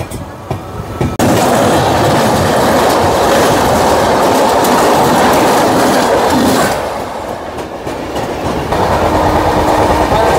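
The Tamralipta Express (12858) rumbles loudly along the rails after leaving Uluberia, with rhythmic clattering, the din dipping briefly after a few seconds before swelling again.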